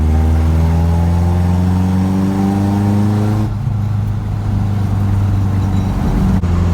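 A rebuilt Nissan KA-engined car with a new differential accelerates hard. Its loud, steady engine note climbs in pitch, drops briefly at a gear change partway through, then keeps pulling, heard from inside with no talk.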